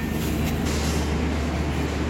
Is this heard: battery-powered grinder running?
no